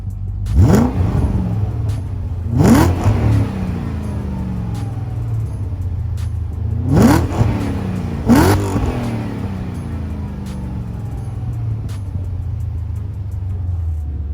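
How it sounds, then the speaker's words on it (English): A BMW E39 540i V8 engine being revved while parked, four sharp blips rising and falling in two pairs over a steady low idle rumble, loud and close with no talking. "I'm gonna give you some revs"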